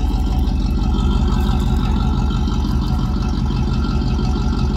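A Pontiac car's engine idles after sitting unused for three weeks, a loud, steady, close rumble that runs evenly throughout with no talking.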